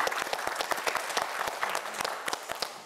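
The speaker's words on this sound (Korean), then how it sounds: "저희가 또 응원의 박수를 보내줬습니다" Steady applause from a studio audience on a TV quiz show, a dense wash of many hands clapping close by and continuing for a few seconds.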